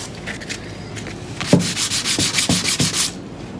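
Porsche 928 engine part surfaces being cleaned by hand, a close, rhythmic scrubbing with about a dozen quick back-and-forth strokes in a steady pulse, alone and moderately loud.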